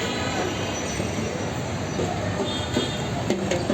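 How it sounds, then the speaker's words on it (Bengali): Metro train at Shahbag metro station in Dhaka, heard as a steady, dense rumble of rolling rail noise with faint squeals that holds for the full few seconds, with no voices. "এখানে হচ্ছে শাহবাগ মেট্রো স্টেশন পেছনে হচ্ছে ঢাকা বিশ্ববিদ্যালয় মেট্রো স্টেশন"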